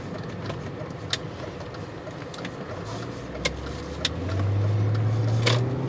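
Inside a car, a V8 with a hole in its exhaust gives a low, muffled rumble that swells as the engine revs near the end, with faint clicks and cabin noise.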